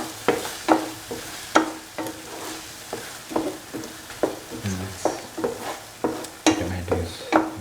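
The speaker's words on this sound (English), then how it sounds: "Now then mix thoroughly." Cottage cheese cashew stew being stirred in a pan, a run of repeated scraping strokes of a spoon against the pan over a soft sizzle, close and steady.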